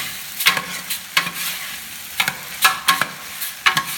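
Lentil soup with onions being stirred in a large pot, a big batch of five kilos of lentils with five large onions, with about eight scraping, sloshing strokes in an irregular rhythm over a soft frying sizzle, close and moderately loud.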